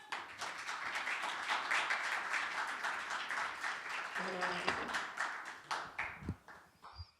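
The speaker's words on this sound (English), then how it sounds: "Please give a very warm round of applause for Puck" Audience at a storytelling and poetry open mic applauding to welcome a performer to the stage, a lively round of claps that thins out into a few scattered, closer claps and stray voices at the end.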